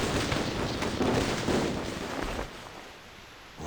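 Gunfire echoes through a video game scene where a body lies in the mud, a dense rumbling wash of booming reports that rolls on for a few seconds before fading into quieter reverberation.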